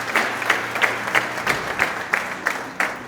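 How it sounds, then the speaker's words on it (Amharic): A church congregation welcomes visitors with rhythmic unison clapping, about three even beats per second, loud and close for several beats. "አጨብጭቡላቸው። ዌልካም።"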